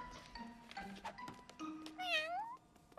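A cartoon cat gives a short, rising and falling meow near the end, set against a busy animated-show soundtrack with music and effects, and no clear talk.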